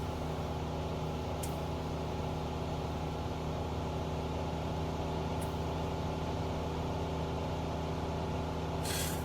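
A Diamond DA20-C1 Eclipse light aircraft engine from a flight simulator drones steadily and evenly throughout, a constant loud hum with a few brief hissing bursts on top and no talking.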